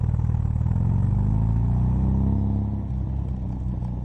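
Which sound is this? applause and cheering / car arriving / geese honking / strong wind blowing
car arriving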